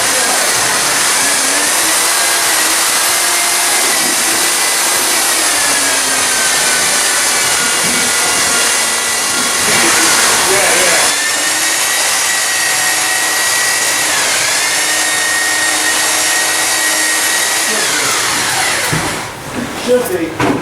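A power mixer churns glass fiber reinforced concrete in a loud, continuous whine and grind whose motor pitch shifts slightly as the load changes, then drops off and rattles near the end.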